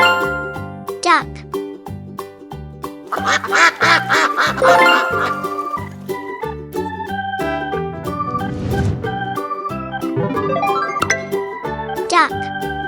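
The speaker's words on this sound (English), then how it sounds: "Duck." A domestic duck on a farm quacks in short, raspy bursts scattered across a steady, jingly children's music track.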